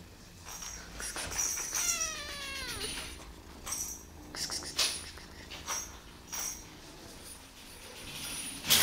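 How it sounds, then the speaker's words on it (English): Kittens recovering from an eye infection meow nearby, with one long drawn-out cry and several shorter mews scattered through a quiet room. "Kitten from Bagheera."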